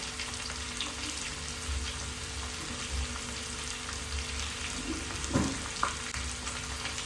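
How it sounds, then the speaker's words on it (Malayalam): Green chilies and garlic fry gently in a pan with a soft steady sizzle, a few stirring clinks and scrapes breaking through near the end. "2-3 അല്ലി വെളുത്തുള്ളി ജസ്റ്റ് ഒന്ന് വറുക്കാൻ വേണ്ടിയിട്ട് കേട്ടോ"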